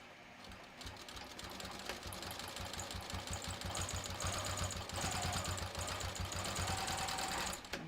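A sewing machine runs a quarter-inch seam on fabric for a wallet, a fast, even mechanical chatter that builds after a quiet start and keeps going steadily to the end, close and fairly soft.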